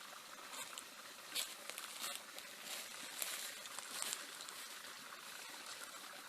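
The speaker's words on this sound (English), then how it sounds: "So you'll see me filling this up with water now." Steady splashing and pattering of water pouring into a tank, a continuous close wash of liquid noise with small irregular spikes.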